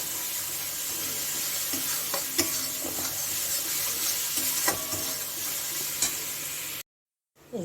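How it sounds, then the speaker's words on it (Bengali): Spices such as Kashmiri chili powder and cumin powder fry in oil in a pan for a raw banana kofta curry, with a steady sizzle and repeated stirring scrapes, close and alone, cutting off near the end. "লঙ্কার গুঁড়ো আর একটু জিরা গুঁড়ো দেব এখন আমি সবগুলো একসঙ্গে কষিয়ে নিচ্ছি"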